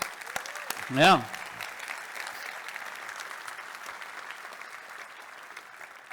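Steady applause from an audience at a tech conference keynote, a dense even wash of clapping throughout with a brief spoken word near the start.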